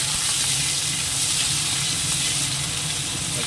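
Prawns sizzle in hot oil in a home kitchen pan, a loud, steady frying hiss that runs unbroken throughout with no voices.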